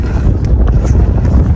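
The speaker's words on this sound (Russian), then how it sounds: "Сегодня ветер." Steady wind buffeting the microphone outdoors by the sea near a long pier, a loud low rumble with gusty fluctuations throughout.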